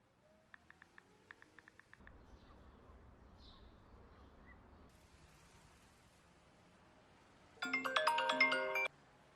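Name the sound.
mobile phone ringtone for a missed call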